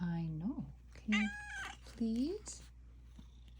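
A house cat meows three times in short, rising, whiny calls spaced about a second apart, close to the microphone, while someone speaks softly between the calls.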